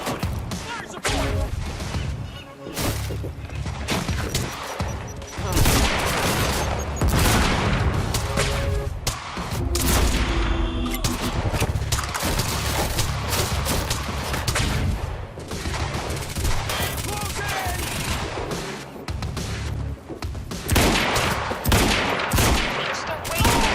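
Dense, loud gunfire in the video game Quantum Break, with rapid bursts and heavy impacts that run almost without a break through a chaotic firefight, mixed with crashes and booms.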